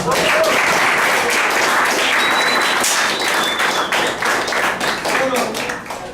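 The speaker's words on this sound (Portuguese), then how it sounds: "Valeu, palmas." A classroom group claps together at the close of a session, loud and steady with scattered voices and chatter, tapering slightly toward the end.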